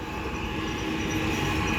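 A passing train rumbles steadily and loudly, with wheel and rail noise and no talking.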